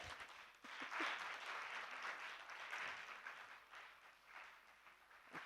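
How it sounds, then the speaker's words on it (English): Applause from a Toastmasters audience at a talk on digital financial services, steady broadband clapping that swells early and then holds, loud and continuous for several seconds with no voices over it. "we clap until they reach their destination"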